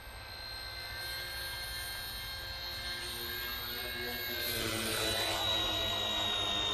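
A small RC ERA A60 JetRanger model helicopter whines with a high, even rotor drone that swells louder toward the end as it draws nearer.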